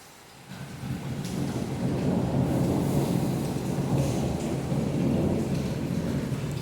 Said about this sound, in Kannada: ಮಳೆ ಮಿಂಚೋದು ಗದ್ದರಿಸೋದು ಎಲ್ಲ ನಡೆದ ನೋಡ್ರಿ